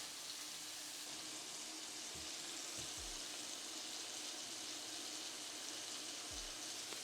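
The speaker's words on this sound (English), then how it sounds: "So now what I'm going to do is literally fry them on each side." Jamaican jerk burger patties frying in a pan, a steady broadband sizzle that stays even throughout, close and moderately loud with no talking.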